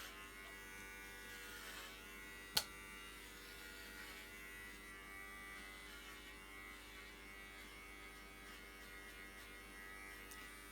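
Electric clippers hum steadily and close by while shaving a pet dog's fur during a home haircut, with one brief sharp click partway through.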